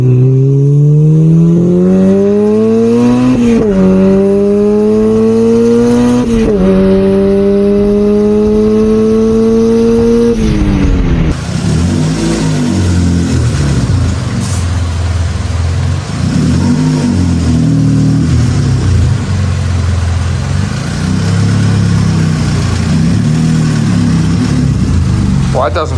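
A 1997 Honda Civic engine with jumped timing revs up repeatedly in rising pulls, then settles into a rough, uneven, loud running drone up close.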